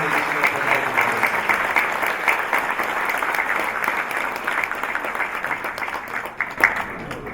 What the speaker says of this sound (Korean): 여러분 큰 박수로 보내주시면 감사하겠습니다